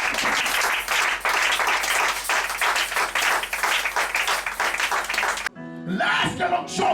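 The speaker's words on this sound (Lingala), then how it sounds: "Est-ce qu'on peut acclamer pour ton retour?" A congregation at a Sunday thanksgiving church service applauds a returning person with a sustained burst of many hands clapping that stops abruptly, followed by a voice speaking.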